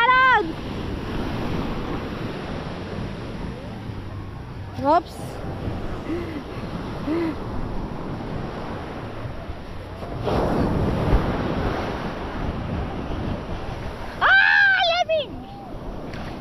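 Strong ocean waves wash and roar continuously at a beach with cold water, heavy wind buffeting the microphone throughout, while a person briefly exclaims near the start and other voices come and go.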